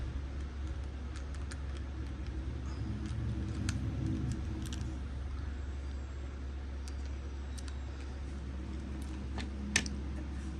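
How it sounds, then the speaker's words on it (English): A steady low rumble of a garbage truck idling nearby, with faint clicks and clatters scattered over the droning engine. "that's the garbage truck, in case any of you are wondering what that noise was"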